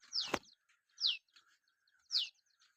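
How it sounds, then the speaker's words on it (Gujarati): Three short, bright bird chirps spaced about a second apart, fairly close, with quiet gaps between calls, on a village farm in the morning. "સવારના તમે વાડીએ નીકળો એટલે પેલા અવાજ તમને સાંભળવા મળે, તેનો વિવિધ પક્ષીઓનો"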